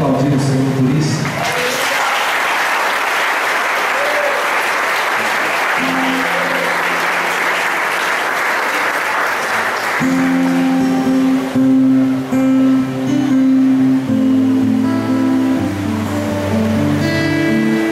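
A church congregation breaks into loud, sustained applause that fills the room for several seconds, then fades as organ or keyboard chords take over.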